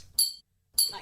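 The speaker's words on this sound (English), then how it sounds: "2 medals clinking together." Two medals are knocked together, giving two sharp, bright metallic clinks about half a second apart, each with a brief ringing tail, close and alone.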